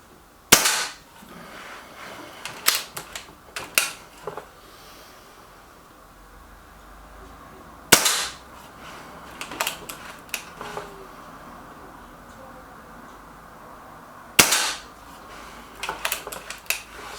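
A Reximex Myth .22 air rifle fires pellets: sharp, close snapping shots spaced several seconds apart, each followed by quieter clicks of the action being cycled.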